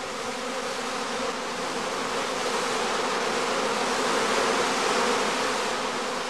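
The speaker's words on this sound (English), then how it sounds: "On the branches, swarming bees soon form a new cluster again" A swarm of honeybees clustering on branches during skep beekeeping gives off a dense, even buzzing that holds steady and fairly loud throughout, with no talking.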